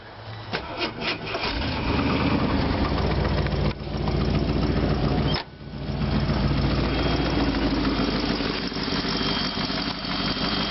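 A 1976 Jeep Cherokee engine with TBI fuel injection catches quickly and settles into a steady, loud idle, with a brief dip in the running note partway through and a continuous rumble throughout.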